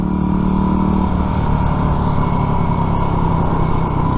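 Steady engine drone of scooters rolling along nearby, a continuous buzzing hum with slight pitch shifts, no voices.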